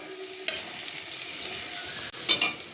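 Sliced onions sizzle in hot oil as they fry into crisp beresta for potato biryani, a steady bright crackle with a few sharp scrapes of stirring.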